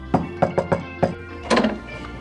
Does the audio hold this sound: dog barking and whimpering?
no